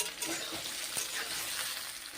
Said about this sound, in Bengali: এবং কালো জিরে ফোড়ন দিলাম।